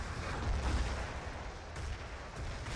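Artillery fire in Battlefield 2 conquest play lands as a faint, distant low boom with a brief rumble, set against a quiet background hiss.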